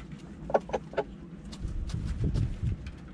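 Blue Shamo/Ga Noi hens give a few short clucks up close, followed by a lower, rougher run of fowl calls over soft background noise.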